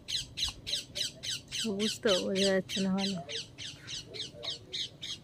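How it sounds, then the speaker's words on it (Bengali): A parrot in a guava tree squawks in a fast, regular series of loud, sharp calls that keep going while a person talks briefly in the middle. "টিয়া পাখিটা ভালোই ডাকছে।"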